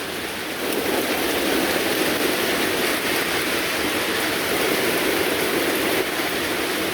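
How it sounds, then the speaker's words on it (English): Steady rain falls outdoors onto a freshly mowed lawn, a dense even hiss holding at a constant level throughout with no thunder. "No thunder and lightning, just rain."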